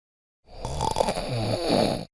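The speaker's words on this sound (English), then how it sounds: "Also, one of them was snoring." A single close snore follows a moment of silence: one long, rough, rattling breath, fairly loud and alone, ending abruptly.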